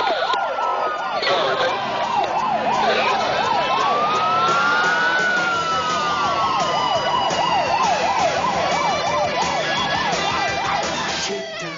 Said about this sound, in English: Run code 3, lights and siren to the donut shop.